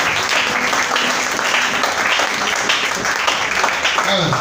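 A church congregation applauding at a service: dense, sustained clapping from a large crowd, with voices mixed into the noise.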